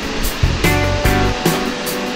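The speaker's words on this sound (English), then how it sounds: "A gentle stream it is today." A gentle river stream flows steadily close by on a walk at Duck Reach, a continuous rushing wash of water with a few brief surges, heard alone with no talk.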